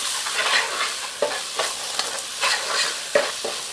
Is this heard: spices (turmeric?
yes